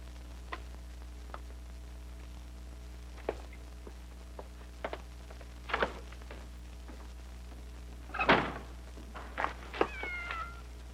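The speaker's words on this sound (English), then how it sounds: "Said shut up, you mangy little cat." A mangy cat meows several times, with short cries toward the end over a low, steady background hum, along with a few faint ticks and soft footsteps.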